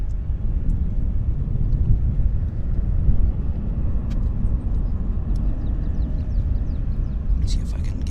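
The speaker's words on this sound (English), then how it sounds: "this is Japan Airlines 767-300ER inbound from Japan" A Japan Airlines Boeing 767-300ER inbound from Japan arrives at Vancouver Airport on a sunny day, its low, steady jet rumble sustained under wind buffeting and a few faint bird chirps.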